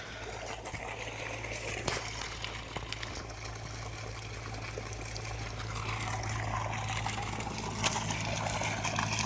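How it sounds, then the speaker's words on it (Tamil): Water pours steadily from the delivery pipe of a 5 HP solar water pump, a continuous splashing rush with a low mechanical hum underneath. "நல்லா ஒரு 2 இன்ச் 3 இன்ச் தள்ளியே தண்ணி விழுந்துகிட்ருக்கு."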